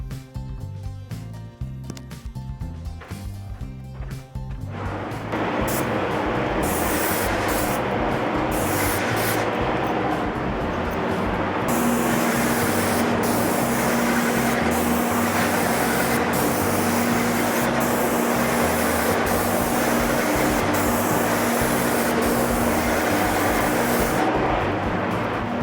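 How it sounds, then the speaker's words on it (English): Spray gun applying water-based multi-surface primer indoors, heard as a loud, steady airy hiss that starts after a few seconds of quieter background sound and holds continuously to the end, alone without speech. "I'm just going to test it to make sure the spray fan is okay"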